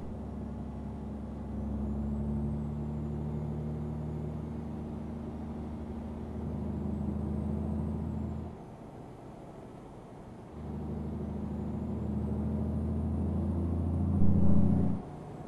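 A bus cruising a road in Euro Truck Simulator 2 on a Turkey map near Bandırma, a steady low engine drone and road rumble that drops away briefly midway, then returns and swells toward the end.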